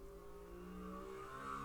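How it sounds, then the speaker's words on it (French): A faint engine hums steadily, rising slightly in pitch toward the end, like a motorcycle idling or revving some distance away. "c'était le bruit de la moto."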